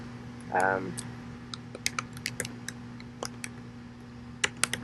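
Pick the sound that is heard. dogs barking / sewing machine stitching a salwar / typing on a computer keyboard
typing on a computer keyboard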